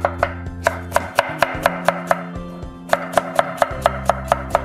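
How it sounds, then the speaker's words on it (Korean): A knife slices through aromatic vegetables on a cutting board in quick, even strokes, two runs of crisp, close chops split by a short pause, with no talking. "같이 곁들일 향채소를 썰어 보도록 하겠습니다"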